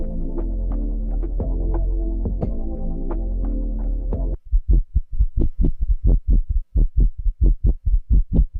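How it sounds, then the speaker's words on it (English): A synth bass processed through the Air Vintage Filter plugin on an MPC first drones as a sustained low tone, then breaks into a rhythmic pulsing wobble of repeated low throbs, loud and alone. "This is called the bass wobble."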